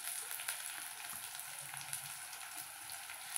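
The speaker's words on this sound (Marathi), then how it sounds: "आता मी टाकत आहे थोडंसं कढीपत्ता" Curry leaves crackle in hot oil alongside onions fried until reddish, a faint, continuous hissing sizzle dotted with small pops, steady and fairly quiet throughout.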